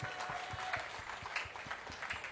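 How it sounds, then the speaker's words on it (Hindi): A crowd at an outdoor public rally in a market area claps for a member of parliament, rhythmic, fairly loud clapping with a few distinct beats, no voices over it. "एक बार जोरदार तालियां भाई हर्ष जी के लिए।"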